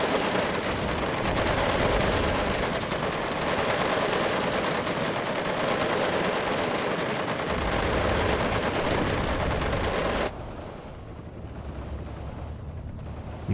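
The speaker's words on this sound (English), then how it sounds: "You're gonna see the MJ-11. It's overpowered massive rotary gun go against the infantry there." In the WARNO war game, an MJ-11 rotary gun fires on infantry, a dense, continuous roar of rapid fire. The roar holds for about ten seconds and then drops abruptly to a quieter rumble.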